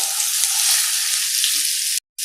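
Chopped okra frying in a hot tempering of ajwain, asafoetida and turmeric gives a loud, continuous close sizzle that cuts out briefly near the end.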